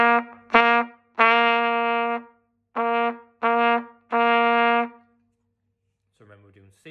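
Trumpet sounding a single C in a crotchet, crotchet, minim rhythm, repeated twice: two short blasts then a longer held note each time, bright and close, followed by a brief voice.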